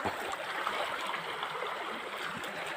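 Steady rushing water from a flowing mountain stream, a constant broadband wash with no voices.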